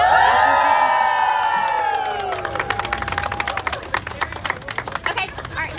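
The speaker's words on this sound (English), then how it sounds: "you cut, and everybody cheer big and loud" Crowd at a hardware store ribbon cutting bursting into loud cheers and whoops, high voices ringing out at first, then settling into brisk clapping mixed with scattered shouts.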